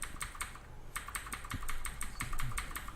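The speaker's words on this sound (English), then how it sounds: "This guy has a clicky keyboard." Typing on a clicky computer keyboard, with rapid bright keystrokes in quick uneven bursts, close and clear with no talk.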